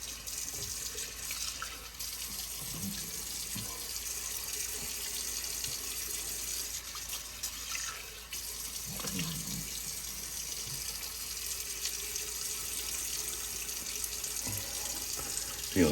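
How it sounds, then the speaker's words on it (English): Bathroom sink tap runs steadily for a hot water rinse after shaving, a constant hiss of flowing water with occasional splashes and small handling sounds, no talk. "Gonna do one final hot water rinse."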